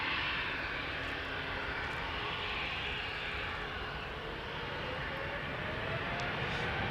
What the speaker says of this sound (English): E2 Embraer 195 is taking off to Birmingham.